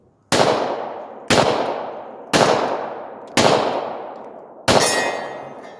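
Five loud gunshots from a .40 caliber Glock pistol fitted with a Holosun sight, fired at a slow, steady pace with sharp cracks and ringing decays between them.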